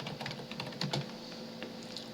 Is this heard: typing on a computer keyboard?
yes